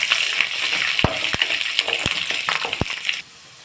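Two whole bulbs of garlic cloves are dropped into hot oil with browned urad dal, a crackling fry broken by several sharp clinks and thuds as pieces land and a spoon stirs, before the sizzle suddenly drops away.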